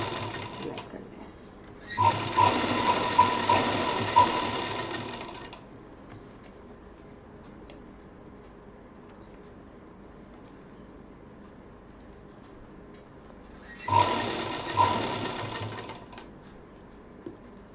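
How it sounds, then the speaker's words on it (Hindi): Sewing machine stitching fabric for a handmade bag, two clear bursts of rapid mechanical whirring separated by a long quiet gap with faint room noise. "सिलाई कर लें।"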